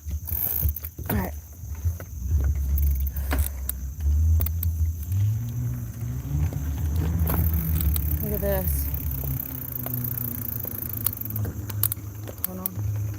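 A car passes along a rural road beside a field on a cold morning, its engine and tyre noise swelling and fading in the background while someone talks over it.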